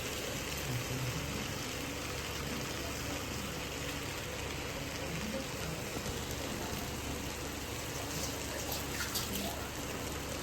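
Water pours steadily into a cooking pot while soya rice is being made, a continuous close hiss and splash that runs unbroken for about ten seconds with no talking.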